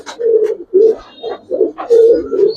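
Teddy highflyer pigeons coo at close range in a series of five or six low, throaty, rolling phrases with short pauses between them. No other sounds are present.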